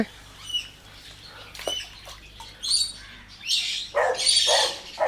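Birds in a backyard cage give short bursts of chirps and squawks, loud and close, with several calls overlapping in the last seconds.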